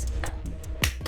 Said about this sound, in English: I clapped.